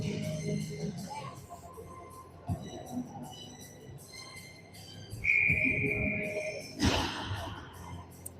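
A referee's whistle at an 18U ice hockey playoff game sounds as one sharp, sustained shrill blast in the middle of arena noise and crowd murmur, with scattered thuds around it.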